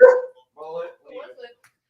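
A dog barks at a distance, a few short yips and barks spaced out over two seconds, faint and thin in an otherwise quiet space.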